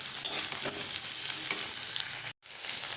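Eggplant, potato and tomato stirred in a frying pan: a dense, steady sizzle with soft stirring scrapes, close up, broken by a brief cut near the end.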